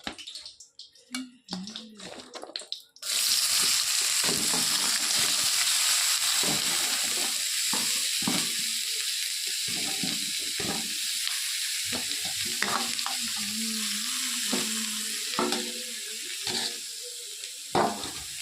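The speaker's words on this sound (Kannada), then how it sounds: "ಸ್ವಲ್ಪ ಎಣ್ಣೆ ಹಾಕ್ಕೊಂಡು ನಾವು ಹೆಚ್ಚಿದಂಥ ತರಕಾರಿನ" Chopped vegetables drop into a pan with a little oil and fry with a loud, steady hiss, while a spoon stirs and scrapes in an irregular rhythm.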